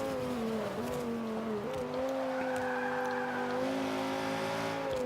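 A 2005 Honda NSX-R races in Forza 5, its engine note droning steadily and shifting pitch with throttle changes, with faint tire squeal in places and no talking.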